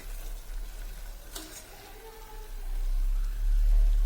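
Tomato rice being stirred with butter in a pan, giving a steady soft sizzle and scraping texture throughout, fairly close, with no talk.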